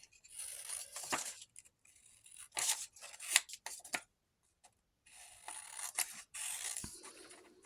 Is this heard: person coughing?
no